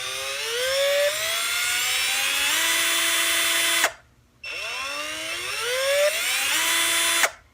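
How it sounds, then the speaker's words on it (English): A SnapFresh 20V cordless drill driver whirs up through its variable speed range twice, pitch climbing as the trigger is squeezed, then cutting off sharply with a brief silence between the close, loud runs. "It does have a variable speed trigger"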